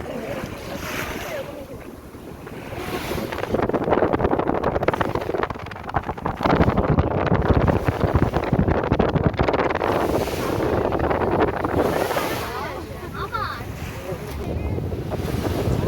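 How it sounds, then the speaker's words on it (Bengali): Sea waves wash against a boat travelling to a camp in the Sundarbans, a continuous loud rush of surf mixed with buffeting wind noise and swelling surges. "বোটে করে এখন আমরা সমুদ্রের ঢেউ শুনতে শুনতে পৌঁছে যাব আমাদের গন্তব্যস্থলে।"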